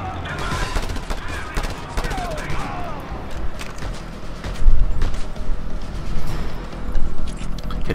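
Rapid bursts of gunfire in the video game Just Cause 2, repeated sharp shots and volleys growing louder toward the end, with a voice talking underneath.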